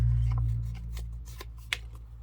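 Paper torn across from one corner to make a journal pocket, heard as a few soft, faint rustling bursts over a steady low hum, with one brief sharper rip near the end.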